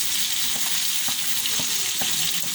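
Onions, tomatoes and carrots frying in a pan, a steady close sizzle broken by light periodic taps and stirring clicks.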